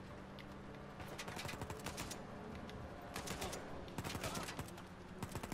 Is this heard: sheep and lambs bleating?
no